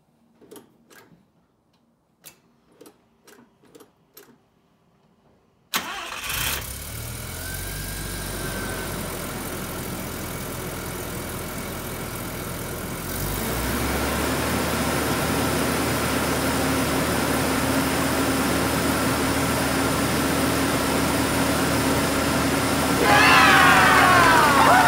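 A rotary-engine car fitted with new MSD HT leads cranks and fires up after a few quiet ticking sounds, then settles into a loud, steady, slightly lumpy idle that rises in intensity partway through, with no talking.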